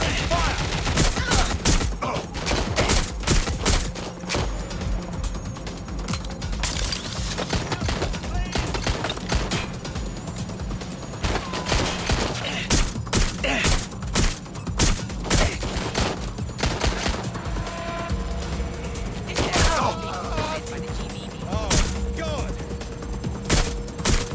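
Watch Dogs Legion gameplay fills with dense gunfire, with loud, close automatic bursts and single shots crackling almost nonstop while a player shouts and talks over the shooting.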